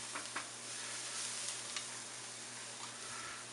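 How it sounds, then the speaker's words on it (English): Finely chopped garlic sizzles in olive oil under constant stirring. A dense, even hiss of frying fills the whole stretch, dotted with faint ticks of the utensil against the pan and no voices. "Nothing like cooking garlic in olive oil. Constantly stirring."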